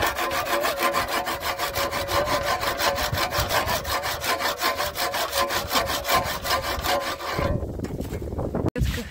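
Hand saw cutting through a dry tree branch in a garden, with rapid, evenly paced rasping strokes close to the listener and a few scraping, creaking sounds as the cut finishes.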